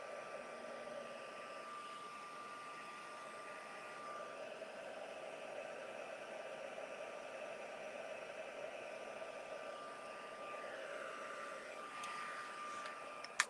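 A heat embossing tool blows steadily beneath an embossed card for a shabby chic card, a continuous airy whir like a hair dryer holding an even level throughout with a small click at the end.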